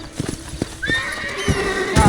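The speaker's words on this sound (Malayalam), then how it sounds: "കുതിര ഓടും കുതിര, ചാടും കുതിര" A horse in the video game Red Dead Redemption, hooves pounding in a quick uneven gallop, then a loud rising whinny that trails off, with a second neigh at the end.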